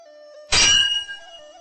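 One sharp metallic clang rings out, then a bright shimmering tone lingers and fades over the next second.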